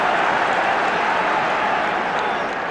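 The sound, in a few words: football crowd cheering and applauding at Celtic match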